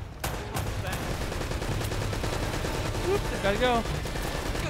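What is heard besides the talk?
turret gunfire in the video game Uncharted: Drake's Fortune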